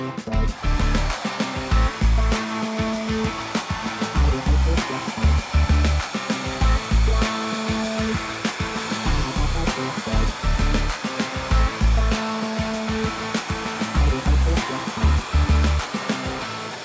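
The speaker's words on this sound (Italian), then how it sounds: "Faccio ancora la cosa di prima con il phon" A hair dryer roars steadily and loudly throughout, drying a painted panel, with a constant blowing hiss and faint rhythmic fluttering in the motor hum.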